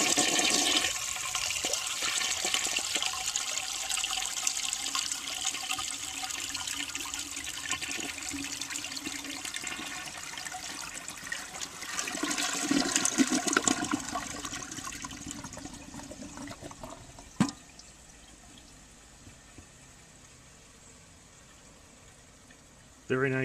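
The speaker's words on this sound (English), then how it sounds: "Here's a flush looking at the right side of the bowl." A 1970 American Standard Cadet toilet flushes, a loud rushing swirl of water that holds steady for about thirteen seconds and then eases into a quieter refill trickle, with a sharp click near the end.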